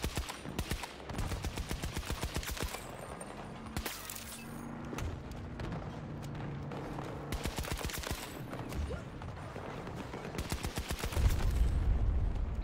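Rapid bursts of automatic gunfire from a weapon in Battlefield 2042 on the Hourglass map crack in dense, repeated volleys, loud and continuous with short pauses between strings.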